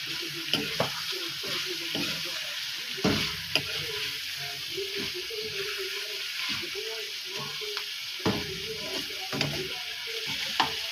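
Garlic sizzling in a pan, a steady close frying hiss with occasional clinks and stirring scrapes from a utensil, faint voice in the background.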